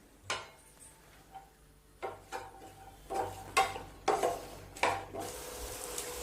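Onions and green chillies sautéing in a pan for a vegetable navratna korma, heard as a series of irregular scraping and clinking stirs, mid-loud and close, with a faint sizzle beneath and no talking.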